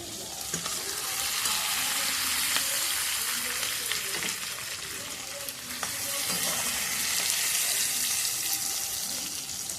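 Food fries in hot oil with a loud, continuous sizzle that swells and eases as it's stirred, with occasional clinks from a utensil.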